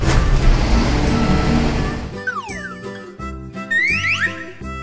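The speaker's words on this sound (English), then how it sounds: "Garbage truck." A toy garbage truck gives a loud rumbling engine-like noise for about two seconds, then switches to bright electronic chirps and a bouncy tune.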